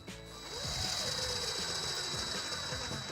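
A steady mechanical whir of a power driver tightening panhead screws into a Delta Hycroft alcove shower wall panel, running continuously at close range for a few seconds without speech.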